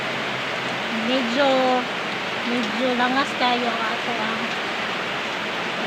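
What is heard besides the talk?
rain falling outside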